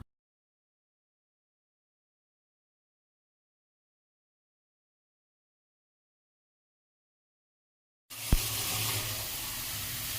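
After a long silence, water suddenly starts pouring in a steady, moderately loud gush for a couple of seconds.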